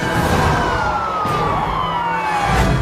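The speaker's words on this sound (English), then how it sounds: "And the sound of a siren behind him sparks an angry encore." A police car siren wails loudly and close by during a chase, its pitch sweeping down in a long wail over steady traffic noise.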